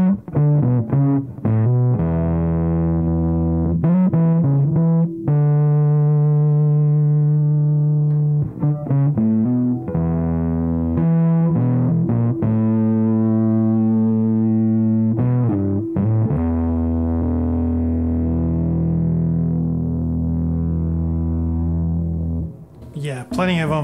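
A bass guitar played through an MXR M85 bass distortion pedal with the dry signal removed, loud and fuzzy, with sustained gritty notes and riffs repeating with short pauses between phrases.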